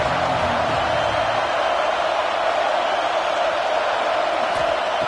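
A large football stadium crowd at a college game between Texas A&M and Georgia roars in a steady, dense wall of cheering and noise that fills the whole stretch without letup.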